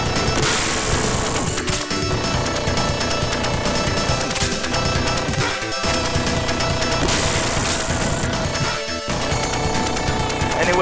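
In the video game Gunstar Heroes, a homing machine gun fires in loud, continuous rapid bursts over busy game music and explosion-like crashes, with a few brief dropouts.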